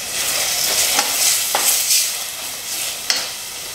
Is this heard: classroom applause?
no